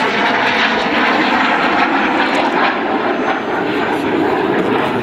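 Jet engines of a Messerschmitt Me 262 flying a display at the ILA Berlin Air Show 2014 give a loud, steady roar that lasts throughout, with a voice faintly beneath it.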